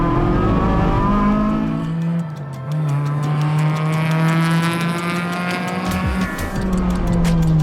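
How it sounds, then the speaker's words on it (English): Prepped Honda Civic on a race track with fresh Kumho V730 tires, four-cylinder engine loud and close, revs rising and falling through gear changes with tire squeal. "I hopped in my thoroughly prepped Civic to get a bit of practice"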